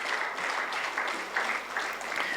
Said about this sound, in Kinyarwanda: Amashyi menshi ku mwami Yesu Kristo